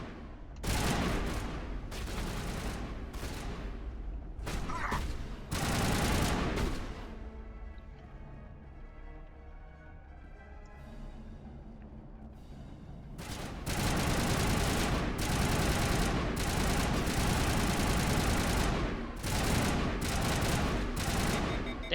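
Weapon gunfire in the video game Mass Effect bursts in loud, rapid volleys, pauses for a few seconds while softer tonal game sounds continue, then resumes in sustained heavy fire.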